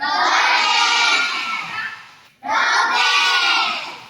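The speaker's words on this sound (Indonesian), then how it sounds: "Anak tepuk tangan" Children in an Indonesian classroom break into loud, dense hand clapping mixed with excited shouts, the noise fading briefly near the middle and then surging back just as strongly.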